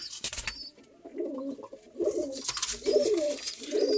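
Pigeons coo in soft, throaty rolling calls, several in a row, with a few higher chirps and rustles in the background.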